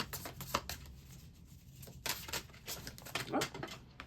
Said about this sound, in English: I said one more oracle card, but I'm still shuffling.